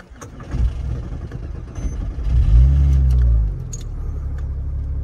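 A manual Porsche sports car at a racetrack cranks briefly and catches, its engine swelling into a deep idle at close range, with faint clicks before the start.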